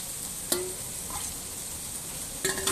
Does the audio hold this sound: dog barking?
no